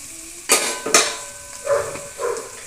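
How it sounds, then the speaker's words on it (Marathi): A spoon stirs Suhana mutton masala into a village-style chicken curry in a pot, giving a few close scraping clanks over a soft background sizzle, with no one speaking. "सुहाना मटन मसाला मिक्स करून घ्यायचं"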